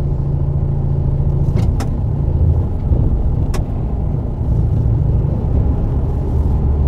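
Heavy 7-ton forklift creeping slowly past a 5-ton truck, a steady low engine rumble close by with a few brief sharp knocks, and no talking.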